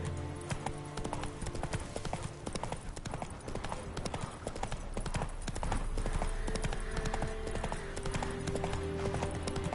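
Galloping hooves of the horse Roach in the video game The Witcher 3, a steady rapid clip-clop running continuously and loudly over a dense game soundscape.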